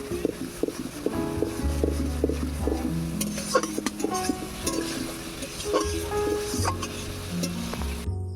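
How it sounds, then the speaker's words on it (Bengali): Spice paste (masala) for potol kalia being stirred and fried in a pan, a close sizzle under repeated scraping and clinking of a spatula against metal. "আবারও একটু মশলাটাকে কষিয়ে নেব।"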